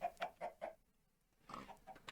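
Clay chicken from the modded Minecraft pack StoneBlock 3 clucking quietly: a quick run of four soft clucks, a short pause, then a few more, low in level.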